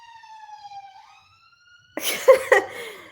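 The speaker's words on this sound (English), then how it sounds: "please ignore the sirens outside because it is like downtown London or Notting Hill" A distant wailing siren in downtown London fades out, then after a brief pause a close, loud cough breaks in.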